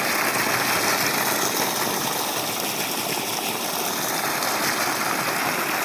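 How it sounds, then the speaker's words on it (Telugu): Water pumped by a well motor gushes from the outlet into the first plot of a paddy field, a steady, loud rushing wash with a faint motor hum beneath it throughout. "బొదట్లో నుంచి మొదటి మడిలోకి నీళ్ళు వెళ్తాయి"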